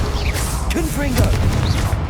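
Loud, close Confringo blasting spells go off in the Hogwarts Legacy video game, several quick booming pops and bursts that overlap the shouted spell casting.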